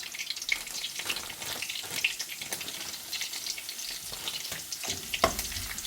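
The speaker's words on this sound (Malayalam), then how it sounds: "അപ്പോൾ ഈ ചൂടുള്ള എണ്ണയിൽ ഇട്ട് കൊടുത്താൽ മതി." Chili flakes and curry leaves crackle and fry in hot oil for a beef roast, a dense, steady sizzle with scattered sharp pops and brief stirring scrapes, close and without voices.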